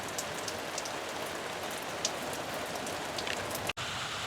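Steady rain falls outdoors in the evening, a close, dense, even hiss of drops on surfaces that runs without a break for the whole clip, with no talking.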